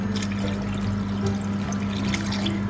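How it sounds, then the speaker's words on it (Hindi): Hot water is poured steadily into a pot of chicken and chickpea soup, a dense, continuous splashing stream heard up close over a low background hum, without any voices. "सर नॉर्मल वाटर हॉट डालेंगे इसमें."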